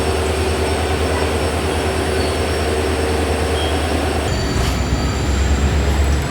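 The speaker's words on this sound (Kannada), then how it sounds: "ಈಗ ಡಿಪಾರ್ಟ್ ಆದ ನಾವು ಶಿವಮೊಗ್ಗ ಟೌನಿಂದ" The Mysuru–Talaguppa Intercity Express pulls out of Shivamogga Town station, heard from aboard as a steady loud rumble of wheels on rail with a low droning hum, no voices.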